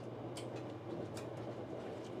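A train moving on rails, heard from inside the carriage: a constant low rumble with faint rhythmic clicks and soft hiss, steady and enveloping throughout, with no speech.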